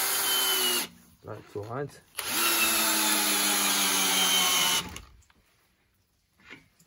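A cordless Einhell TE-CD drill drives a long 160 mm wood screw, its motor whining loud and steady for several seconds under strain before stopping, with brief bursts of speech before and a short pause after.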